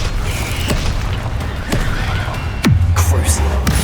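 Spell explosions in Hogwarts Legacy from the Confringo fire curse: several sharp blasts spaced about a second apart, the last a loud deep boom, over constant battle noise and game music.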